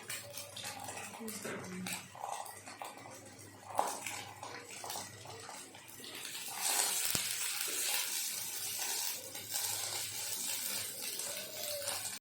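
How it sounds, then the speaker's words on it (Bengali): Potatoes fry in hot oil in a wok, a continuous crackling sizzle with clinks of cookware and utensils, and a dog barks now and then nearby. "এবার আলুগুলো ভেজে নিচ্ছি"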